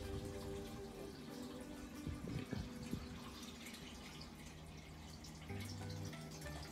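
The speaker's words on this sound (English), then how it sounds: "if I can lift it in angle, the water go out faster" Water runs out of a tilted PVC hydroponic pipe in a vertical garden, a faint continuous trickle with light drips and a gurgle near the middle.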